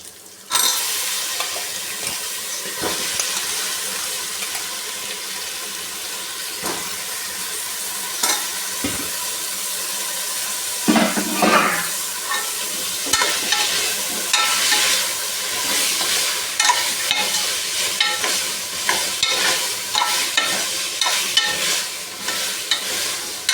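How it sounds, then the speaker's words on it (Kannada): Potatoes and eggplant fry with sprouted beans in a pan for a sprouted-bean sambar, a steady close sizzle running throughout with repeated scraping stirs and clinks that grow busier toward the end; nobody talks. "ಸ್ವಲ್ಪ ಹೊತ್ತು ಫ್ರೈ ಮಾಡ್ಕೊಳ್ಳೋಣ. 1-2 ನಿಮಿಷ ಇದು ಕೂಡ ಫ್ರೈ ಮಾಡ್ಕೊಳ್ಳೋಣ ಆಲೂಗೆಡ್ಡೆ ಬದನೆಕಾಯಿನ."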